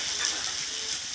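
Spices frying in hot oil in a pan for masala rice, a close, steady sizzling hiss with no pauses over the brief moment.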